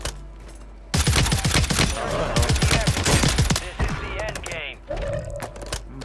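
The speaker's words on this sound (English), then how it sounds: "that gun was literally shooting me through like I can't even say it through like four different walls" Rapid gunfire in Call of Duty Modern Warfare III, a dense close burst of repeated shots lasting several seconds with mechanical clatter, followed by a brief pause and more firing.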